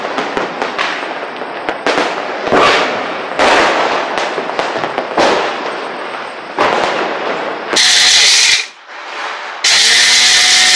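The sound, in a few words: firecrackers bursting nonstop outside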